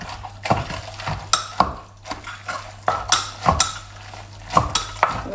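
Parasol mushroom dip being pounded by hand in a mortar, with irregular dull thumps and scraping knocks spaced a second or so apart, fairly close and alone.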